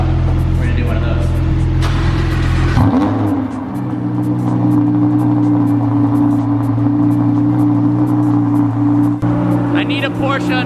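A Lamborghini Huracan fires up on a cold start with a sharp roar, then settles into a loud, steady high idle that holds without pause, close and dominant throughout.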